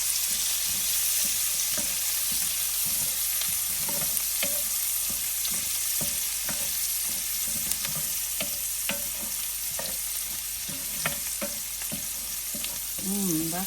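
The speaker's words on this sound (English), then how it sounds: "we're going to let that saute for a few minutes" Pearl onions sauté in a hot pan for Tuscan chicken, giving a steady sizzle with intermittent stirring scrapes and clatters throughout.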